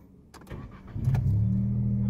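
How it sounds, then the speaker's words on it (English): Cold start of a car fitted with Guerilla downpipes: a click and brief cranking, then the engine catches and settles into a loud, steady low rumble close by. "let's hear the cold start"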